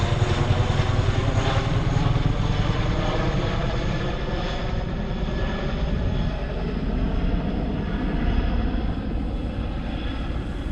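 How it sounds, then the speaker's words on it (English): A Dynam Waco model biplane makes a flyover, its engine a steady, fairly loud drone that holds through the whole stretch with slight swells in level. "Oh, he's going to do a flyover."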